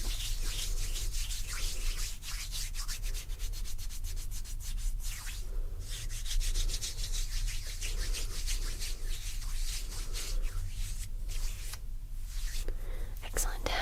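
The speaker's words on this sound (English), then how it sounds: "Really make sure you rub it in, okay? Actually, let me help you rub yours in." Close, soft rubbing of oil or lotion into skin, a continuous swishing friction in gentle repeated strokes, with whispering over it.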